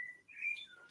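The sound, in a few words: ambient bird song from outside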